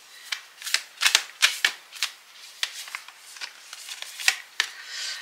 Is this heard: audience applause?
no